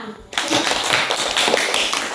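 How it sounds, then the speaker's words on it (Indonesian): A burst of group applause from schoolchildren in a primary school classroom starts abruptly and continues steadily, a dense patter of many hands clapping at close range. "Oke, tepuk tangan buat semua."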